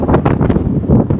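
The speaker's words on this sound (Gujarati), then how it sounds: "પવન જ એટલો જોરદાર છે" Strong wind at Rostock beach on the German coast, heard as loud, gusty roaring buffeting close to the microphone in uneven surges with no clear pauses.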